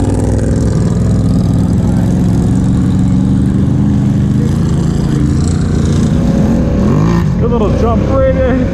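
A Polaris Scrambler ATV engine runs loud and close at an ATV park, with a steady rumbling drone that holds through the stretch, and a voice briefly rises over it near the end.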